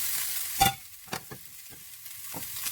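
Pork for a Filipino siopao asado filling fries quietly in a pan, a faint steady sizzle broken by a few sharp stirring scrapes and clinks.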